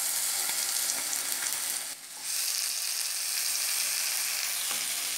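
Onion, garlic and ginger paste fries in hot oil, giving a loud, continuous close-up sizzle with a short dip around the middle and faint stirring scrapes, and no one talking.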